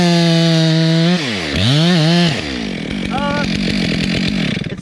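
A dull but working chainsaw cuts through a climbing flipline rope up close, its loud engine drone sagging and recovering in pitch as the chain bites, then settling into a steady rough buzz.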